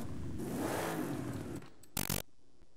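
An 8.9 liter car engine in Forza Horizon 5, heard revving loudly in a long rising and falling roar, then a short burst of harsh noise before it drops away.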